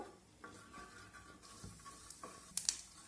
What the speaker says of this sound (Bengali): তেলের মধ্যে দিয়ে দেবো হাফ চামচ গোটা জিরা। জিরাটাকে ভেজে নেব।